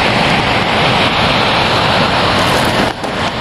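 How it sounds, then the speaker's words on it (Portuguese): Ocean surf washes far below a steep slope in Iceland, a continuous broad roar heavily mixed with wind buffeting the microphone. "E ali embaixo é o oceano."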